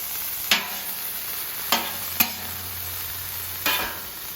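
Sausage and cabbage stir fry on a flat top grill under a constant sizzle, with four sharp spatula scrapes at uneven intervals, close by and with no voices.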